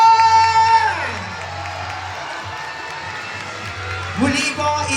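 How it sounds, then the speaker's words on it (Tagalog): A crowd of children in Sampaloc, Manila claps and cheers loudly at an outdoor gathering, a sustained wash of applause and shouting with a fresh swell near the end, mixed with tonal music. "parinig naman po ng isang malakas na palakpakan na may kasamang hiyawan!"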